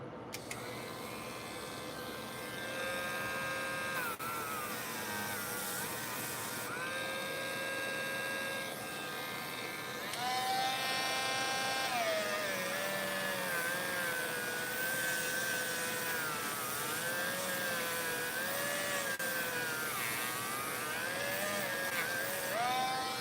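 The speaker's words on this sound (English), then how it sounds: "it works really good because you couldn't do that without that little sander" A small 250-grit Dremel sander works on a paper model of a Star Wars Hammerhead Corvette, its high motor whine steady but shifting in pitch as pressure changes, close and continuous.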